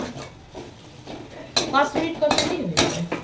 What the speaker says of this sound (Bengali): একটা টমেটো কুচিও দেওয়া হলো সাথে সাথে এবারে সুন্দর করে কষানো হবে